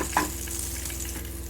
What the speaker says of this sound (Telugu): ఈ మెంతులు ఆవాలు వేగిన తర్వాత